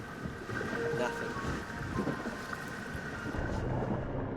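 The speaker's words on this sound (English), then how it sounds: "Just the sound of the engine." An outboard engine runs steadily on a boat at sea during a shark-watching trip, a constant low drone mixed with wind buffeting the microphone, moderately loud and without a break.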